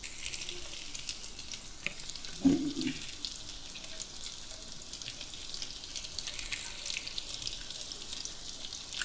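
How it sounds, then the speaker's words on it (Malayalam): Fish fries with onions in a pan for a Kerala-style fish kanathari dish, giving a soft, steady sizzle with crackle throughout. There is one brief low thump near the start. "ഇപ്പോൾ നമ്മൾ മീനൊക്കെ മൊരിയുമ്പോൾ ഉള്ളിയിൽ കിടന്ന് മൊരിയുമ്പോഴേക്കും നല്ല ടേസ്റ്റ് മണം വരുന്നുണ്ട്."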